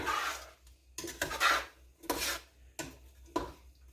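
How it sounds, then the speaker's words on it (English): A spoon scraping and stirring strawberry jam made from frozen strawberries in a pot: four or five rasping strokes spaced about a second apart, close and fairly quiet. "This can take quite a while to melt down. You just keep stirring it."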